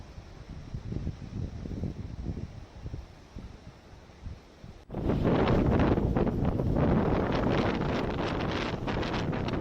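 Strong storm wind buffets a stalled ropeway at Maihar, first gusting and rumbling against the microphone, then swelling abruptly into a loud, sustained roar of rushing air for the second half.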